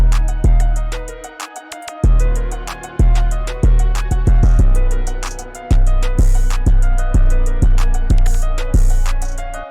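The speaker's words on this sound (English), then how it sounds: "And my second 808 pattern sounds something like this." A second 808 bass pattern in a hard Detroit-style FL Studio beat, deep punchy bass hits landing in a bouncing, syncopated rhythm under quick constant hi-hats, loud and close with no talking.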